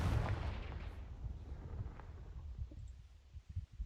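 A Confringo blasting curse goes off in Hogwarts Legacy, a deep booming explosion that rumbles loud at first and then fades into a low, crackling tail with scattered thuds.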